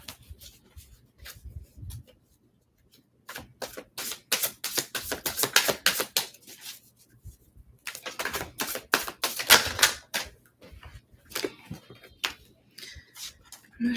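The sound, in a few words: shuffling tarot cards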